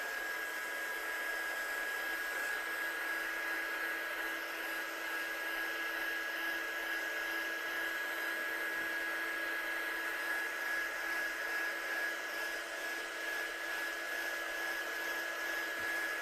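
A heat tool blows continuously with a steady high-pitched whine while drying gold heat embossing on a handmade card, an unbroken airy drone at even loudness throughout.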